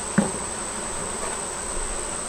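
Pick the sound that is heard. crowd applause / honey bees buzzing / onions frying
honey bees buzzing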